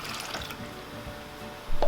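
Water pours into a container for a lumpia sariwa sauce in a kitchen, a soft continuous trickle ending in a louder splash.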